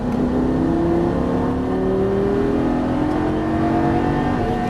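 A 2013 Lamborghini Gallardo on an exotic-car track in Las Vegas accelerates hard, its loud engine note rising steadily and continuously close by, with no talking over it.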